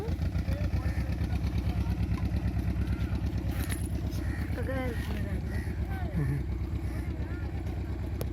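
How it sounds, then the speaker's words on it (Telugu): A boat's motor runs on the Krishna river, with a steady, rapid chugging engine pulse throughout. Voices can be heard over it. "మోటార్ ఆన్ చేశారు."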